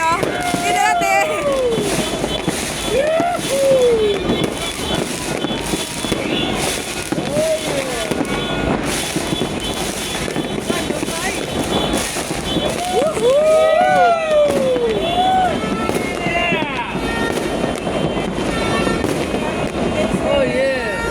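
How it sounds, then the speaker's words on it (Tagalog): New Star fireworks at a New Year celebration, a dense, continuous barrage of crackling bursts and whistling rockets rising and popping for over twenty seconds, loud and close, with occasional cheering voices mixed in. "New Star Fireworks."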